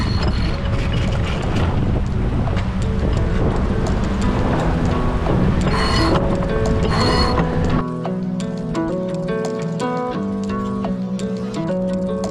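Sailboat rigging and a winch ratchet and creak as the head sail is let out off Waiheke Island, with busy clicking mechanical sounds under steady wind noise on the microphone throughout.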